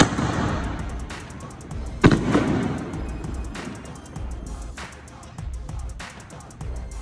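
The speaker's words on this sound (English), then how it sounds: "Really set off fireworks in the middle of a city?" Fireworks go off in the middle of a city, a sharp loud bang near two seconds followed by scattered fainter pops and crackles over a rumbling background.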